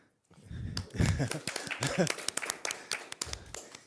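Attendees at a school district board meeting break into a short burst of scattered, uneven handclaps close by, mixed with murmuring voices and talk before the applause fades.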